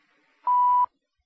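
A single clean electronic beep, a steady tone lasting under half a second, sounding alone in near silence.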